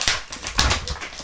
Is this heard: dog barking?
yes